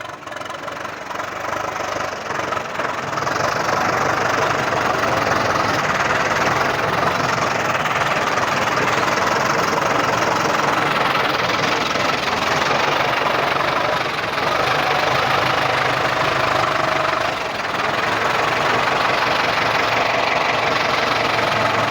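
Ford 6610 tractor engine running steadily close by, a loud continuous diesel rumble with a rough knocking texture that holds even throughout.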